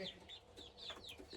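Chickens cluck softly in a chicken coop, with a few quiet, close, irregular clucks and murmurs over a faint background.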